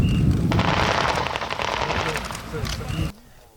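Loud rumbling blast and crackling bursts of gunfire-like noise from a military landing exercise fill most of the clip before cutting off abruptly, with voices faintly mixed in.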